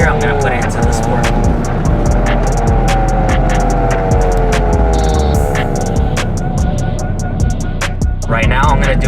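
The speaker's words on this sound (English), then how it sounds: "Right now we have the exhaust on the quiet mode, so you're not gonna hear much." A Hyundai Veloster N with its exhaust set to quiet mode, driving: a steady, loud engine drone with rising harmonic sweeps under constant road rumble, and no sharp exhaust pops.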